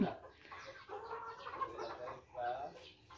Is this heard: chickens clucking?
yes